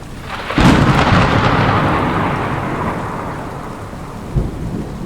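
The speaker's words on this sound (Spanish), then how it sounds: "Un trueno rodó por el cielo un segundo después, profundo y cercano" Deep, close thunder cracks sharply then rolls on for seconds over steady heavy rain, with a second lighter rumble near the end.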